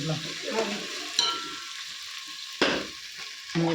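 Ginger, chili and onion fry in hot oil with a crackling sizzle, broken by a couple of sharper stirring scrapes in the pan.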